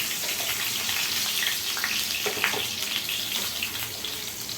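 Potatoes frying in hot oil in a home kitchen produce a steady, close sizzle and crackle with a hissing, bubbly texture that holds throughout without pause.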